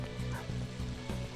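Dogs bark in a short burst in the video game Persona 5 Royal, several rhythmic yaps repeating quickly and fairly faint beneath game sounds.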